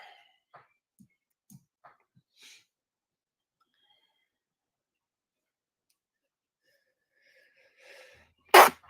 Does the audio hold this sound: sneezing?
yes